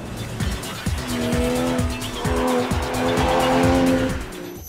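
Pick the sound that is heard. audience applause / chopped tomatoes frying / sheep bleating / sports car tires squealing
sports car tires squealing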